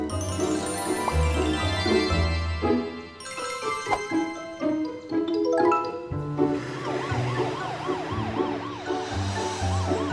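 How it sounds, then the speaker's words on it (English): A cartoon ambulance siren wails, rising and falling repeatedly over lively music, fairly loud and close. "Morphle, morph into an ambulance"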